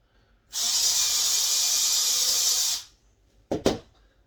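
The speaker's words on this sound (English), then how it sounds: "So I'm just going to pre-drill first." A power drill whirs loudly for about two seconds while pre-drilling wood, then stops; a moment later two brief bursts of the drill or tool follow.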